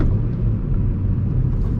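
A 2010 Honda Civic LX-S with a manual gearbox gives a steady, close, low engine rumble as it is driven through a heel-toe downshift under braking, with no talking.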